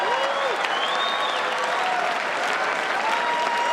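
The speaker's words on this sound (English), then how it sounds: "Give them a round of applause." Audience applause at a correspondents' dinner, sustained even clapping from a large room, with faint voices and whistles rising above it.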